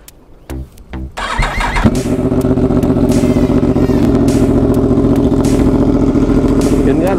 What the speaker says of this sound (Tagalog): So, since maingay itong drift exhaust na naikabit dito, ito nga yung purpose ng Kariton silencer na ginawa ko nung isang araw.